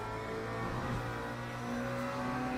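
A McLaren race car in the sim racing game Le Mans Ultimate drones steadily at high revs, a loud continuous engine tone holding throughout with no talk over it.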